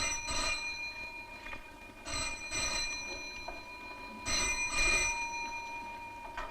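Old landline telephone bell ringing for an incoming trunk call from Calcutta, sounding in several clear bursts with short pauses between rings.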